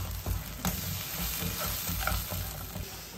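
Ground masala paste for a spicy Tamil crab curry fries in a pan with an even, continuous sizzle, stirred with soft scraping strokes throughout.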